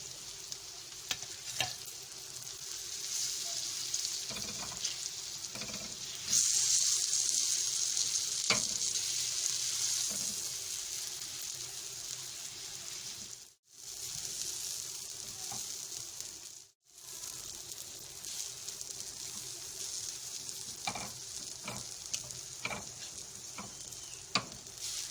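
Ghee sizzles steadily in a pan as a small batch of mini buns is cooked, a continuous hiss with a louder surge partway through and two brief near-silent breaks, with no voices.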